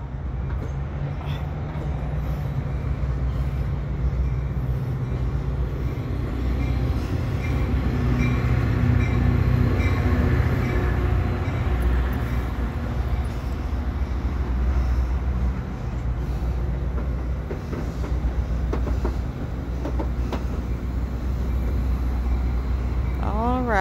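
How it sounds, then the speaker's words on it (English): Twotenny locomotive rolling toward Hill Yard at night, a steady low rumble of engine and rail noise throughout, with a rising squeal near the end as it draws closer. "Comes my baby, the only locomotive in the world that means anything to me."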